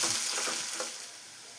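Green and dry chillies, salt and curry leaves frying in a pan for coconut rice give a dense, steady sizzle that softens slightly toward the end, with no voices.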